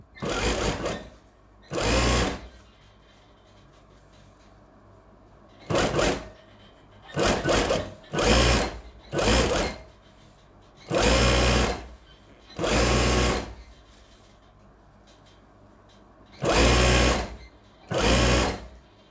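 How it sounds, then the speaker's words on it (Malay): A sewing machine stitches around layered fabric in about ten loud, even bursts of rapid stitching separated by short pauses, with a quiet voice in the gaps. "kita jahit setapak keliling"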